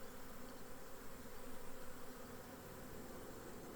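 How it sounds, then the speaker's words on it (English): A swarm of honey bees moving into a hive on a cool morning makes a dense, continuous buzzing drone that stays steady and close for the whole stretch. "this is one of those magically increasing swarms of bees"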